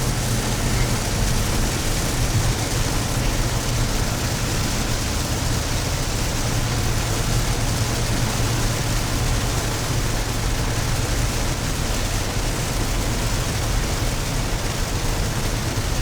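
Rain pours steadily in Costa Rica, a loud, unbroken wash of hiss and patter heard from inside a moving vehicle, with a low engine rumble beneath and no one speaking.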